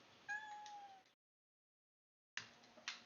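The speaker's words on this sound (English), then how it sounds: "That was a really good meow." A house cat gives a small, high meow, then a gap of silence and a second short meow, heard close and alone.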